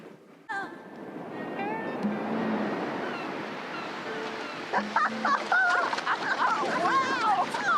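Ocean surf washing steadily at the shore, a continuous broad rush that swells and holds, with chickens or a rooster clucking and calling on top; people's voices are also present.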